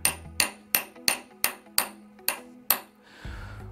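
A hammer taps a replacement front sight into the dovetail of a Smith & Wesson M&P 9 Shield EZ pistol, giving eight sharp, ringing metallic strikes in a steady rhythm, close and clear, with no talk.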